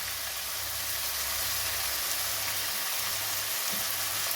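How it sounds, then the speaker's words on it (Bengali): Onions, with a few grains of sugar added, fry in a pan for a restaurant-style pea and chicken keema, giving off a steady, even sizzling hiss that stays close and moderately quiet with no voices over it. "এরপরে পেঁয়াজ দিয়ে পেঁয়াজটাকে নেড়ে ছেড়ে নিতে হবে"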